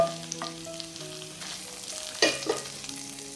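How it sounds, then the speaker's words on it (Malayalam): Batter is added to cooked tapioca (kappa) for a restaurant-style kappa curry and stirred in a pan, giving a soft sizzling, scraping texture with a few sharper clinks over quiet background music. "ബാറ്റർ കപ്പയിലേക്ക് ഇട്ട് കൊടുക്കാം കേട്ടോ"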